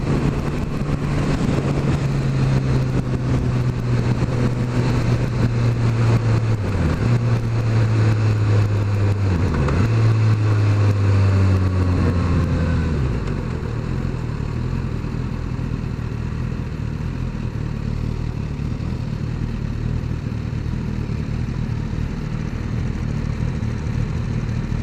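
A 2016 Suzuki GSX-S 1000 motorcycle engine under way, a loud steady drone with pitch sweeping up and down through gear changes early on, then settling into a smoother rush of road and wind noise.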